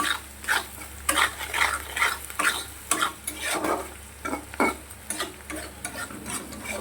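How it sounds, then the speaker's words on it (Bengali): Onions frying in oil until deep red for a katla fish curry, with a loud close sizzle and frequent rhythmic scraping strokes of a spatula stirring the pan, no voices. "এটা ভালো করে লাল লাল করে ভাজা হোক"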